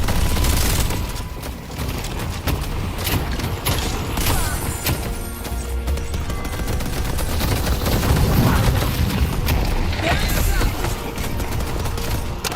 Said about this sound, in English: I can't let the turrets have all the fun.